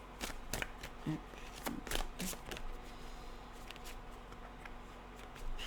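Tarot cards being shuffled by hand during a weekly energy reading, a few soft riffling and sliding bursts over a faint steady hum, with no talking.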